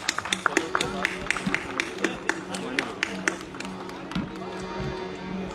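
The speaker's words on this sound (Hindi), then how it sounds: "जोरदार तालियों से इन कलाकारों का आप स्वागत करें।" An audience applauding to welcome Bhavai folk dance performers from Barmer, Rajasthan, with a steady patter of claps and some sharper individual slaps rising over a murmuring crowd while an announcer's voice carries over it.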